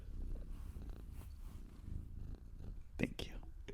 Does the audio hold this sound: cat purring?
yes